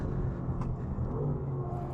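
A Mercedes-AMG GT R engine accelerates onboard on the Nürburgring Nordschleife, a steady loud low rumble that holds close and constant with no talk over it.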